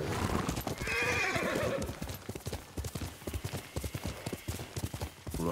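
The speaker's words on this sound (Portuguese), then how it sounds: "Cavalo!" Horse in Ghost of Tsushima neighing loudly at the start, then galloping with rapid rhythmic hoofbeats that continue steadily to the end.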